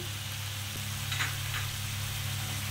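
Blended yogurt and tomato paste are poured into a pan of chicken frying in oil, giving a steady, close sizzle and hiss with a low hum underneath and no speech.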